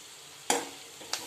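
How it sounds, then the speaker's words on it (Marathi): Vegetables stir-fried in a pan after a sprinkle of gram flour (besan), giving two short bursts of sizzling, a louder one and then a softer one, over a quiet background with no talk. "आणि चांगली परतून घेऊया आपण ही भाजी"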